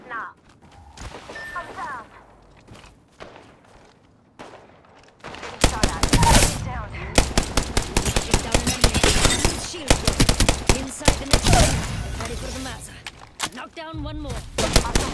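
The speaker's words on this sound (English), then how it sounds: "Taking fire." Gunfire in Apex Legends: quiet scattered shots give way to heavy, rapid automatic bursts and loud crackling fire, dense and continuous for several seconds, with game voice lines heard over the shooting.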